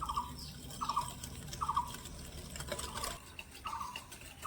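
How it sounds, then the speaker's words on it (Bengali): Ghee and powdered sugar whisked together in a bowl for semolina biscuit dough, giving short repeated scraping strokes at an even rhythm, close and soft, with no talking. "এবার একটা হুইক্স দিয়ে ভালো করে আমি মেশাতে থাকবো"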